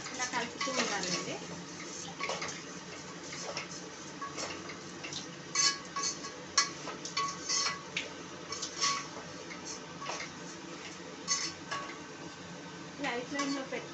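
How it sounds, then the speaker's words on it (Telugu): Semiya payasam with dry fruits stirred in a pot, soft scraping and light clinks of a spoon against the metal, irregular and fairly quiet, recurring over a low background hiss. "కలుపుతూ ఉండాలండి."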